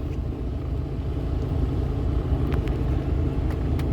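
A truck engine idling just after start-up, a steady close low rumble that runs unbroken, with a few faint high clicks above it.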